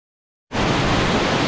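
Steady broadband rush of a hidden waterfall in Mayurbhanj, starting abruptly after a brief silence and continuing loud and even, with no voices.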